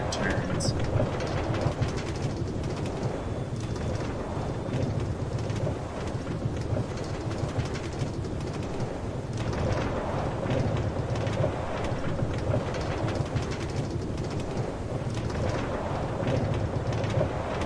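Steady rain with low rolling thunder fills Minecraft's game soundscape, a dense continuous wash that stays fairly even throughout.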